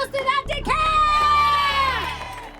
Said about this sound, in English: Why are all of these people cheering?